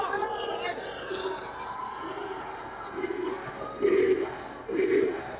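Crowd at a FlipTop rap battle erupting in cheers and shouts, swelling in loud bursts toward the end over a constant background murmur.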